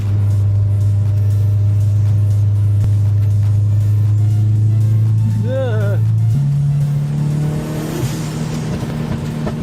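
A 900HP Subaru on a winding mountain road, its engine droning steadily up close with a shift in pitch partway through, while the driver talks over it.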